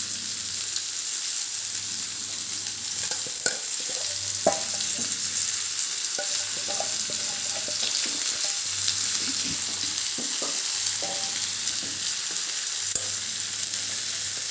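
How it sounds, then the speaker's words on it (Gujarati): Chopped ivy gourd and potato frying in oil with cumin seeds and turmeric, a dense, steady sizzle heard close up and alone, with a few soft knocks of stirring. "જીરું આપણું તતડી ગયું છે એની અંદર વન ફોર ટીસ્પૂન હળદર એડ કરીશું અને આ સમારેલું શાક એડ કરી દઈશું"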